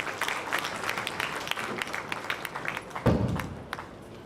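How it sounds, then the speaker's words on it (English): Audience applause at a welcome and thanksgiving ceremony as a dean of academics is invited on stage: a steady patter of clapping from a crowd, with a heavier thump near the end. "Can we have a huge round of applause for her?"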